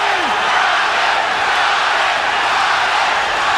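The arena crowd at the Julio Cesar Chavez versus Meldrick Taylor boxing fight roars in a loud, steady, dense wall of noise that holds without a break.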